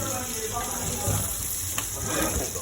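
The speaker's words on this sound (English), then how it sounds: "Let's basically fry like a crust onto this." Meat frying in a pan while being basted with thyme, giving a steady close sizzle and crackle with faint kitchen background hum and no talking.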